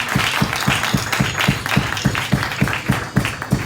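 A congregation at a French-language evangelical campaign applauds for the pastor, clapping together in a steady, evenly spaced rhythm close by, with a low thump on each beat.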